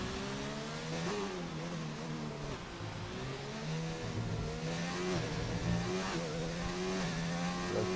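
A Renault Formula One car screams through a lap of a racing game on the Barcelona circuit, its high engine note climbing and dropping through gear changes in a continuous, loud, close drone with no talk.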